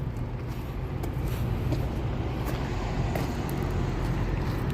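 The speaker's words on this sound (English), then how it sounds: "So you see how we got that blue motor there?" A blue electric motor drives an oil well pump jack outdoors, giving a steady, loud broadband mechanical drone with a constant low rumble that holds unchanged throughout and no talking.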